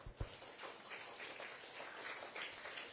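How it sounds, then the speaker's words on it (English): Children's audience at a literature and culture festival seminar applauding a young participant, a faint, steady patter of many hands clapping throughout. "Round of applause, please."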